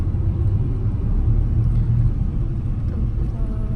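A steady low engine rumble fills the cabin of a moving bus on a trip toward Yamaguchi, Japan, a constant droning hum with faint road noise and no voices.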